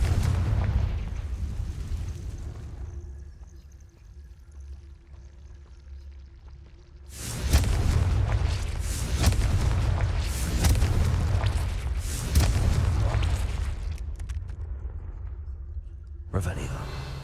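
Fire-spell explosions in the video game Hogwarts Legacy: loud, booming broadband blasts erupt after a quieter stretch, several bursts in quick succession with crackling tails, then a brief lull and one more burst.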